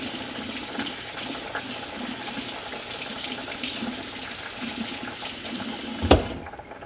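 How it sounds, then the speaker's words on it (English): A kitchen faucet runs steadily while a single carrot is rinsed under it, an even, moderately loud splashing flow with small shifts as the carrot moves, ending in a sharp clunk before the water cuts off; no one speaks. "wash my carrot off."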